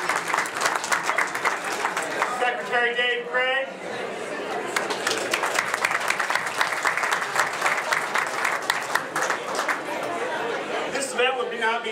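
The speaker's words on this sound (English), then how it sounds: "Secretary Schultz, give him a round of applause." Audience applause at a Maryland Municipal League legislative event, steady clapping and some chatter lasting about twelve seconds, with a voice on a loudspeaker talking over the start and end.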